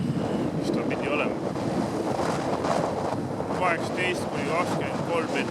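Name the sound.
strong wind at Meremõisa beach, 18–23 m/s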